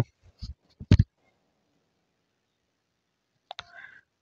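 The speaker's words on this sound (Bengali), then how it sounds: "তো আমরা সার্চ বারে গিয়ে প্রথমেই লিখব Pantheon.io।" Keystrokes typing Pantheon.io into a browser search bar: a quick burst of crisp, close key clicks, a pause of a couple of seconds, then a few more taps.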